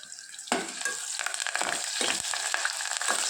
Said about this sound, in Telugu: ఉల్లిపాయ ముక్కలు కలర్ మారేంత వరకు వేయించుకోవాలండి.